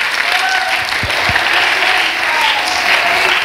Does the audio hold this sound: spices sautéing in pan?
no